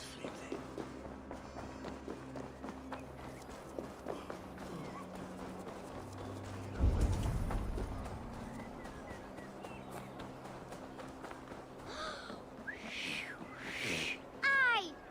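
Steady clip-clop of horse hooves at a walking rhythm in Assassin's Creed Valhalla, with a brief louder thump midway and faint voices and ambient sounds around it.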